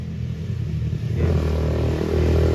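Dirt bike engine rumbling on a road, starting as a low idle-like drone and then swelling louder as it revs and passes close by, a continuous gritty motor sound without voices.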